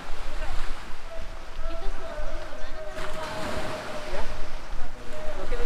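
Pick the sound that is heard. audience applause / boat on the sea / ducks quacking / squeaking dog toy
boat on the sea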